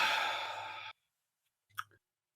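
A man yawns close up, a long breathy sigh-like exhale lasting about a second, followed by a short quiet pause and a brief soft mouth click or murmur.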